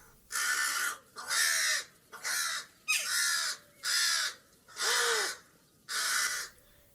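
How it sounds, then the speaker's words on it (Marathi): A crow caws harshly seven times in a steady, evenly spaced series, loud and fairly close, with brief quiet gaps between calls. "इतक्यात सर्वांच्या कानावर कावळ्याचा कर्कश आवाज आला."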